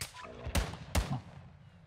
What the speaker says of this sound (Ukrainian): Хто тільки що стріляв снайперку.